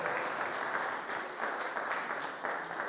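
Audience applause for Colonel Lorenzo Cadeddu at an official association presentation ceremony, steady dense clapping from a crowd lasting several seconds.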